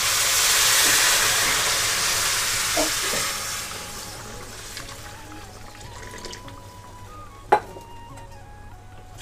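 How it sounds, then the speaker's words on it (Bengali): A mug of warm water goes into sizzling ban fish masala in a pan, starting with a loud steamy hiss that fades gradually, followed by quieter bubbling and a sharp clink near the end. "এখানে আমি 1 মগ জল দিলাম"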